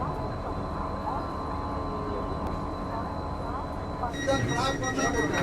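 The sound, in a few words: Vande Bharat sleeper express train departing Malda Town station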